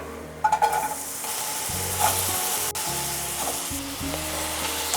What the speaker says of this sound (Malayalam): എണ്ണ ചൂടായി വരുമ്പോൾ നമുക്ക് സവാള ഇട്ട് കൊടുക്കാം